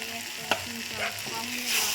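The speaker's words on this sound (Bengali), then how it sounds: "ওটা দিয়ে আবার নাড়তে থাকলাম কষতে থাকলাম" Spices sizzle and crackle steadily in a hot pan while a utensil scrapes and stirs through them, with no voices.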